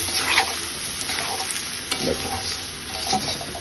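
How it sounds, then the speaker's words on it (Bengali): Raw rice being stirred and fried in a wok (kadai) for duck biryani, steady close sizzling with intermittent scraping and clinks of the spatula against the pan, no voices. "ভাজার উদ্দেশ্যে আমি চালগুলো কড়াই ঢেলে দিলাম আপনারা দেখতে পাচ্ছেন এবং ভালো করে নাড়াচাড়া করব ভালো করে ভেজে নেব এই চালগুলোকে"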